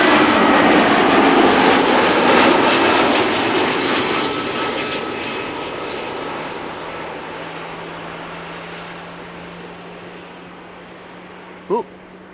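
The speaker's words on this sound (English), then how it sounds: "Ooh, engines being started. Sounds like GE90 engines." Airliner GE90 jet engines starting up at Schiphol airport, a broad steady roar slowly fading with a faint rising whine underneath, heard from outdoors at a distance.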